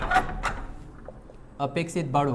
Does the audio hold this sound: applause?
no